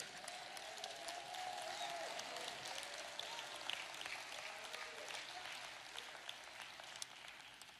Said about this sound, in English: That's a casual applause.